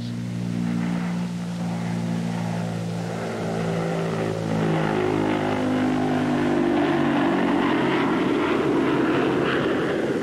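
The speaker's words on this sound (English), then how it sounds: "the big bomber is on her way. The jet engines are cut in for extra boost" Heavy engines of a Consolidated bomber roar loudly and continuously, a deep droning hum that builds in intensity as the fully loaded aircraft powers up for takeoff with jet engines cut in for boost.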